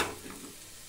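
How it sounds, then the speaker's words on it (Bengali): Bhetki fish balls frying in oil give off a brief, faint sizzle that fades quickly, heard alone. "এদিকে আরেক দফা ভাজতে দিয়ে দিচ্ছি"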